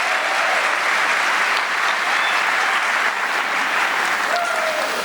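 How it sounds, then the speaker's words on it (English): An audience applauds steadily for a marching band and color guard at an opening-day gathering, a dense even wash of clapping from many hands that holds at a loud level throughout, with no talk over it. "let's give them a round of applause"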